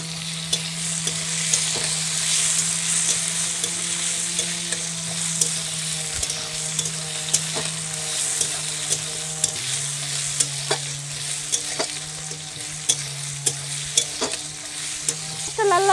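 Chopped onions sizzle steadily in a hot pan while a utensil stirs and scrapes them at irregular intervals, close and continuous with no voices, while dal with fish head is being prepared.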